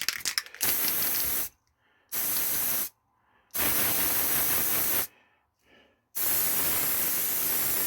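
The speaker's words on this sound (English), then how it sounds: "Lighter spray with the gold, kind of coppery colour really." Bursts of gold-copper spray paint hiss loudly from an aerosol can in several long blasts separated by short silences, steady and close, with faint clicks between sprays, painting miniature wargame scenery.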